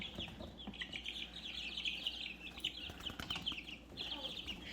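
Backyard homestead chickens rustle and flap their wings close by in a steady busy texture, with soft clucks and chirps mixed through the flurry and no talking.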